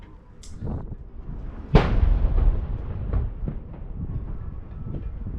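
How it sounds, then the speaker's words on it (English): Artillery fire from a 96-gun salute for the Queen booms once sharply and close, followed by a long rolling echo and a few fainter distant thuds against steady background rumble. "We were privileged enough to witness the 96-gun salute for the Queen, which was quite surreal."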